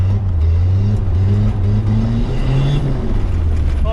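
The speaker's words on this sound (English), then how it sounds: "Makes a buzzy noise, man. This is like a legit, like this is a whistling diesel, mate." Diesel engine fitted with an upgraded TD06 turbo, a loud steady drone with low rumble and a rising whistling tone over it, close and continuous without speech.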